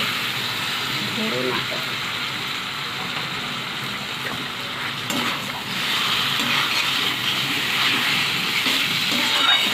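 Water goes into a hot pan of chicken masala and sets off a loud, close, steady sizzle with stirring noises. The hiss grows stronger in the second half, and there is no talking.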